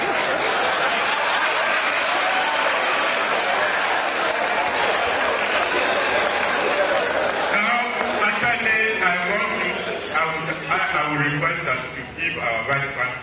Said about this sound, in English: Vice Chancellor, another round of applause